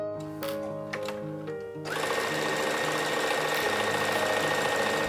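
A sewing machine stitches straight across a seam on a child's cotton tunic dress, its steady rapid motor chatter running continuously and fairly loud after a short stretch of softer tones.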